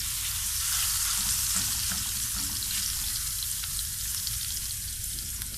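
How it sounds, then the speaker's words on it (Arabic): Garlic and sausage fry hard in a pan, a dense continuous sizzle with low bubbling and occasional stirring scrapes, close and loud throughout. "هنزل بالثوم عشان ريحتها بس"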